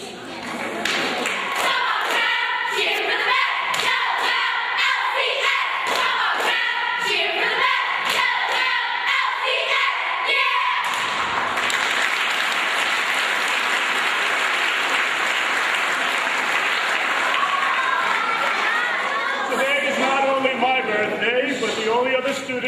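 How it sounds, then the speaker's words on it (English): School cheerleaders from Lincoln Community School performing a cheer at an indoor bicentennial event, rhythmic shouted chants with stomps and claps, then a long burst of crowd applause and cheering, with voices calling out throughout. "And now I'd like to invite up the Lincoln School cheerleaders."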